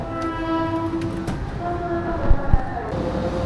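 The Gumarang passenger train runs from Jakarta to Semarang, its carriage filled with a steady rumble and tonal hum, plus a couple of heavier thuds from the wheels near the end.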